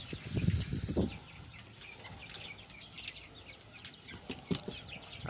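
Chickens and small chicks in a hillside farmyard at dusk on a windy, overcast evening, with scattered soft clucks and chirps, a brief flurry of wing flaps near the start, and a steady breezy rustle underneath.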